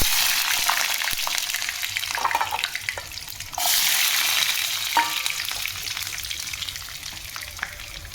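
Food dropped into smoking-hot oil, a steady loud sizzle with a sudden surge partway through, plus scattered clinks and splashes nearby, with no talk.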